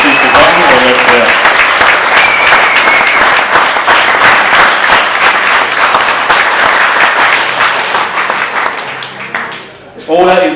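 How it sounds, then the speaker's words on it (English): Wedding guests at Seville Hill Winery in Seville, Melbourne, give a long round of applause, loud and close, with a voice audible early on. The clapping tapers off near the end, then talk resumes. "can I please have a round of applause for everybody mentioned"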